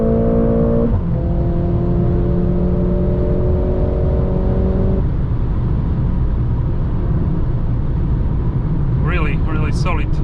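A 2021 Mercedes GLA 45 S AMG cruising fast on the German Autobahn, with loud, constant road and wind roar and a steady engine drone that shifts pitch partway through, ending in a brief higher whine.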